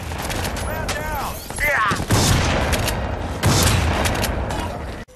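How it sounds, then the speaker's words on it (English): Close-range shotgun blasts in the shooter game Crysis 2, several heavy booming reports over a dense, busy battle mix with whooshing effects, loud and near throughout. "firing a shotgun close up would definitely look something like this"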